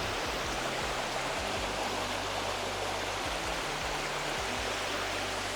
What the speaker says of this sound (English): So I made it to the falls.